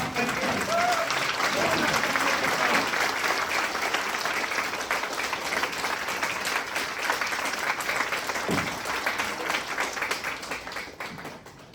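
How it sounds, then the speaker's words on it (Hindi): Loud, sustained applause from a standing audience thanking God at a Hindi-language gathering, dense clapping filling the room for about twelve seconds before tapering slightly at the end. "खड़े होकर के एक बार अपनी जगह से जोरदार तालियों से उनका शुक्रिया"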